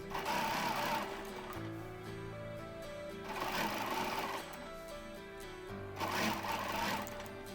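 A sewing machine quilting diagonal lines across a quilt runs in three steady bursts of rapid stitching, each a second or so long, with quieter pauses between as the fabric is repositioned; close and fairly faint, with no talking.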